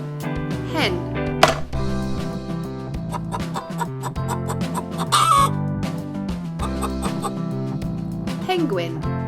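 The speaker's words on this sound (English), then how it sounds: "Hen." Hen clucking in repeated short bursts over a steady musical background, moderately loud, from a bird-sound demonstration.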